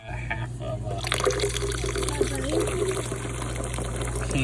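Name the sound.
soda water poured into a blended mint drink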